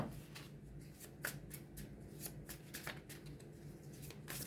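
Tarot cards are shuffled by hand in a quiet room, a run of soft riffling flicks and light slaps repeating close by, with no talk.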